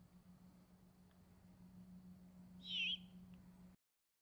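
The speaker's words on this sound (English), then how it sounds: "Now the owl is about to screech." A great horned owl gives a single short, sharp screech partway through, up close against a quiet background with a low steady hum.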